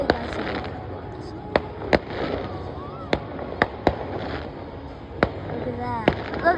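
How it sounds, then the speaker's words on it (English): Fireworks over the largest lake in New Jersey burst in sharp, distant booms spaced a second or so apart, with crackling between them, while people talk nearby throughout. "Oh wait, it's fireworks are starting."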